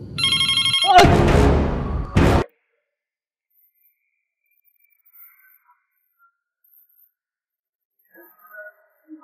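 A home telephone rings with a loud electronic trill for a couple of seconds, then cuts off into near silence with faint scattered sounds, in a Vietnamese drama scene at night.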